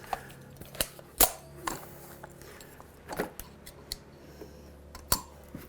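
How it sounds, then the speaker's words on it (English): A caulking gun's built-in cutter snips the tip off a caulk tube, making a series of sharp, dry clicks and snaps spaced irregularly, close and fairly quiet, with no talking. "A good caulking gun gives you the ability to cut the end off"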